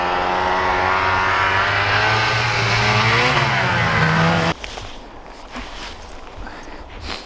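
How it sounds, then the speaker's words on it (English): A Summit 850 mountain snowmobile with 3-inch paddle track revs loudly and steadily up close while riding through snow, its pitch shifting as it accelerates, then abruptly cuts to quieter rushing and crunching sounds. "Go ahead and take the Summit 850 for a quick ride."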